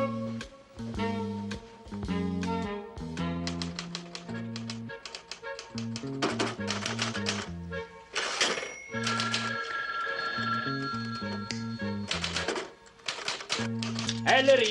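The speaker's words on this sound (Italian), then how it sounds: "Ma non senti il telefono?" Telephone rings sound among clattering typing and tapping sounds in a scene from an Ellery Queen TV series, with repeated bursts of ringing and clicking and voices speaking now and then.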